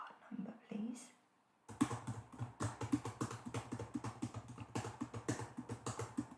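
Close, soft typing on a computer keyboard, a steady patter of quick key clicks, follows a brief whispered voice at the start.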